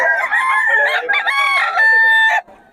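A young gamecock stag, a chocolate bulik rooster, crows loudly and close by in one long harmonic call lasting most of the moment, then breaks off into quiet.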